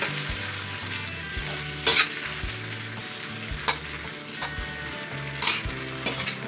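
Noodles stir-fry with loud, steady sizzling in a hot pan for a Thai rad na dish with marinated pork, with occasional scrapes and clanks of a utensil against the pan.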